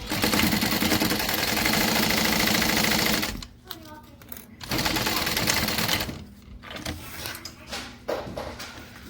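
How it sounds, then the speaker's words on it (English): A home sewing machine top stitching close along a crisp folded fabric edge, running in steady bursts with brief pauses between passes, fairly close and loud, with faint talk in the background. "I'm gonna top stitch my folded edge"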